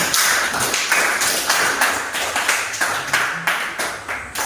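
A classroom group claps in unison for a student group, about ten evenly spaced, crisp rhythmic claps close by, with no talking over them.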